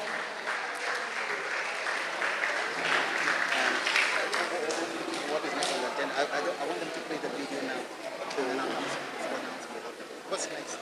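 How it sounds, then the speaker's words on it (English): Sustained applause from the audience at a national robotics competition fills a hall for about ten seconds, a dense, even roar of clapping with voices and cheers mixed in. "A big round of applause for all contestants, all teams, and all members who are in here this afternoon."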